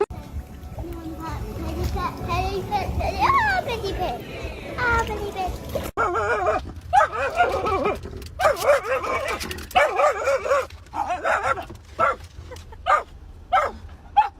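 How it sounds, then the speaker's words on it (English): A happy dog barks in a string of loud, close yips and woofs with whimpering between them, while voices, including a child's, are heard around it. "Oh, the happy dog."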